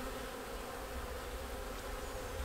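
Honey bees buzz around a nuc hive in spring, a close, continuous swarm drone with layered wing hum and no talking.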